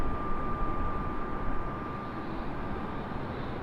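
An airliner lands at Raleigh-Durham International Airport, heard as a steady, continuous jet roar at a distance, holding an even loudness throughout with no voices over it.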